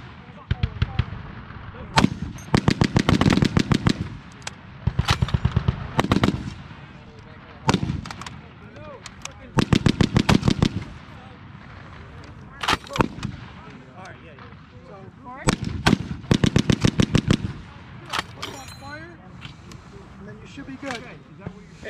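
M2 .50 caliber machine gun firing at Fort Lewis with the US Army, heard as several loud bursts of rapid, heavy gunfire separated by pauses, with voices talking between the bursts.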